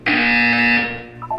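Buzzer in the Portal 2 game, one harsh electronic tone that sounds abruptly, holds loud and steady for about a second, then cuts off into faint tonal blips.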